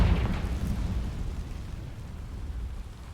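A Confringo blasting spell detonating in Hogwarts Legacy: one heavy explosion at the start, followed by a long, deep rumble that slowly fades.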